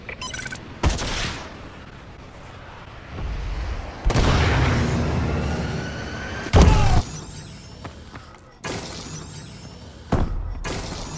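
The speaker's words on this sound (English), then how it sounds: "Friendly missile strikes inbound." Friendly missile strikes hit in Call of Duty: Advanced Warfare, a series of loud booming explosions with shattering debris, separated by brief lulls, each blast sharp and close.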